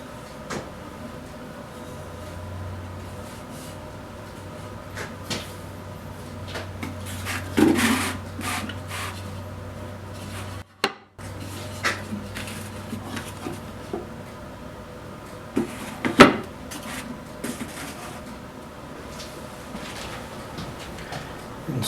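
Small wooden drawer being fitted into a cherry jewelry box, with intermittent wood rubbing, sliding and knocking sounds, a few sharper taps, and a low steady hum beneath.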